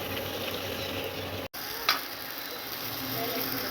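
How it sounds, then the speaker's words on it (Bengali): A single fuchka puri fries in a hot kadai of oil, giving a soft, steady sizzle and bubbling hiss with one brief dropout partway through. "এই দেখে আমাদের কড়াই গরম হয়ে গেছে। এবার আমরা একটা ফুচকা ছেড়ে দিয়েছি।"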